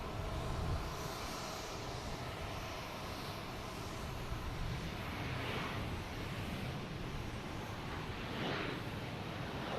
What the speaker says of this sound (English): And that KLM will pass in front of us.